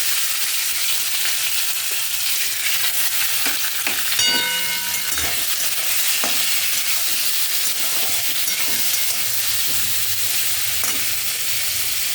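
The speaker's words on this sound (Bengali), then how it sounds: "এবার চিংড়ি মাছগুলোকে এক ফোঁটা তেল দিয়ে নেড়ে নেব।" Prawns coated in mustard paste frying in oil, a loud continuous sizzle and hiss with occasional spoon scrapes and taps as they are stirred, close by and without speech.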